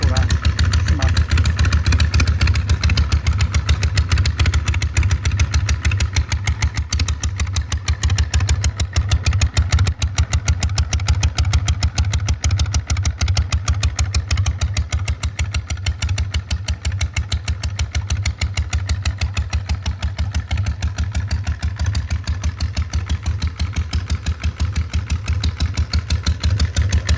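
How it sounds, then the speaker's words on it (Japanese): Zero Engineering Road Hopper Type9 EVO motorcycle with a US-spec muffler idling, a loud, deep, steady rapid thump of exhaust pulses close by throughout, with no talk over it. "US 仕様のマフラーなので、これかなり音が大きいですが、結構のぶといいい音がします。"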